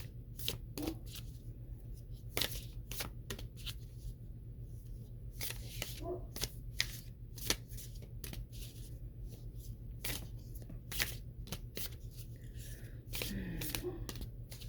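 Work Your Light Oracle cards are shuffled close up in a quiet room, giving repeated crisp riffling bursts over a low steady hum.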